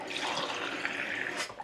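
A new mug is rinsed under a running tap, giving a close, steady splash of water that ends abruptly after under two seconds, with no speech.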